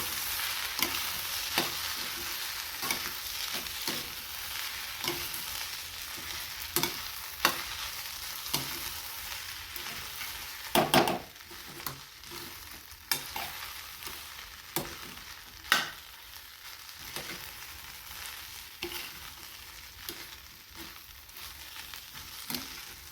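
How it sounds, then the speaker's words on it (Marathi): Egg fried rice tossed with soy sauce in a pan gives a continuous low sizzle, broken by repeated scraping and stirring strokes from a spatula, including a louder clatter around the middle. "आणखी याला आपण थोडंसं मिक्स करूया, म्हणजे हा सोया सॉस सगळीकडे मिक्स झाला पाहिजे."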